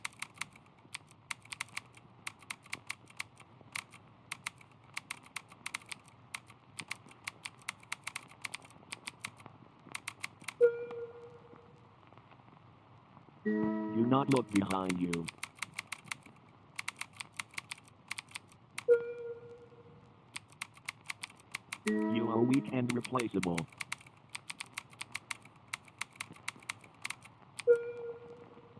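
Rapid clicking of a computer keyboard as someone types into a console, in steady bursts of keystrokes with short pauses between, interrupted by brief tones and harsher electronic noise bursts; a voice speaks briefly.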